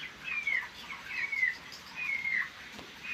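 Many chickens in a poultry farm shed give repeated high, thin peeping calls over a soft, steady background hum, the chirps coming in short descending bursts at moderate distance.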